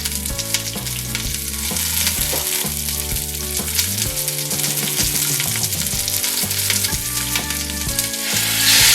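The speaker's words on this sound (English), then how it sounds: "you need to add in the beef, and we need to brown it for at least about 2 to 3 minutes" Beef browning in a pan for Thai massaman curry makes a steady, busy sizzle throughout, heard under loud background music with a clear melody and bass line.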